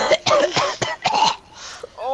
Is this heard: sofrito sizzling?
no